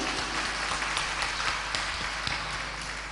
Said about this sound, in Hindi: तो आप ताली तो बजाओ उनके लिए।